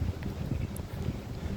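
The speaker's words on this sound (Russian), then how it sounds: "Вот такой ветер прям поднялся, дождь сильный идет" Strong wind gusts roar and buffet the microphone in a Tashkent park during heavy rain, a steady low rumble with no pauses.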